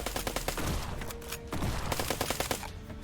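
Dense, continuous rapid-fire gunfire from enemies in the bullet-hell airship game Black Skylands, fast popping bursts layered over each other with a brief tonal blip, no talking.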